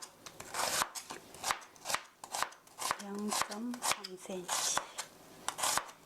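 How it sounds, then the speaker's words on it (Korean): A knife slices mushrooms thinly on a cutting board in quick, rhythmic close taps and crisp cuts, about two per second, while someone talks quietly over the chopping. "두께로 얇게 썰어주세요"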